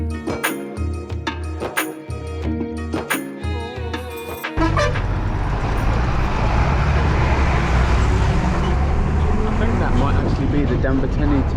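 Inside a Sri Lankan state-owned bus moving through traffic: after a few seconds of music, a loud, steady engine and road roar takes over, continuous to the end.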